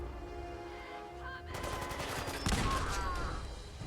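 Grenade explosions and gunfire in Fallout 4 combat. A dense, rattling burst of blasts starts suddenly and is followed by a heavier boom that rings out, all fairly faint and without speech.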